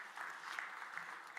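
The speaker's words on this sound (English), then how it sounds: "Can we have a huge round of applause for them" Audience applause for the presenters at a TiDB User Day tech conference in India, a faint, steady patter of clapping from a distant crowd with no voices over it.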